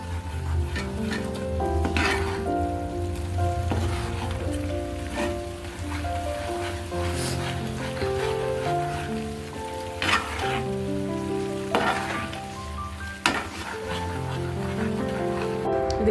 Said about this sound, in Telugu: కొంచెం ఆయిల్ అల్లం వెల్లుల్లి పేస్ట్ వేయించాం కదా